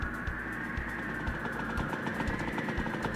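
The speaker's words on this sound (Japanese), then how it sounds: "さっきのとよく似たエンジン音が聞こえてきた" A snowmobile engine in the video game Kamaitachi no Yoru drones at a steady, moderately loud pitch, running continuously with a faint rhythmic flutter and no voices over it.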